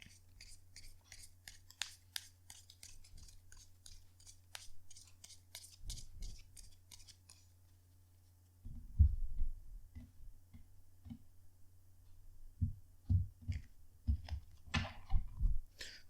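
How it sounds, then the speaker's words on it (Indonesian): Tarot cards are shuffled and riffled in a quiet room, a long run of quick, crisp ticks and flicks, then heavier soft thumps and rubbing as the deck is handled, all close and fairly faint. "kartunya dikocok dulu seperti biasa sebelum dimulai"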